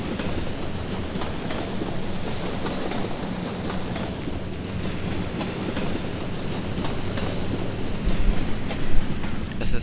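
Tram riding along a line in the video game Cities in Motion 2, a steady dense rumble with rattling clickety-clack over the rails, continuous and fairly loud throughout with no talking.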